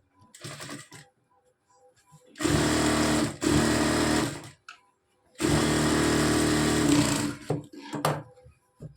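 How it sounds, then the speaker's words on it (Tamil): A sewing machine stitches along the edges of a blouse sleeve in two long, loud, rapid bursts, with brief quieter runs and pauses between them and no talk. "இப்போ அப்படியே திருப்பி நம்ம எட்ஜஸில் ஒரு தையல் போட்டுக்கலாம்."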